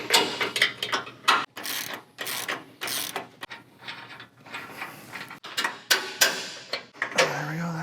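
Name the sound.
removing alignment cam bolts on Ford F-150 suspension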